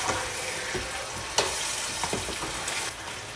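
Mutton pieces frying in a pan with spices, a steady close sizzle broken by a few scraping stirs and clinks.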